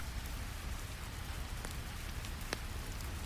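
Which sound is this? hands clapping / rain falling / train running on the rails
rain falling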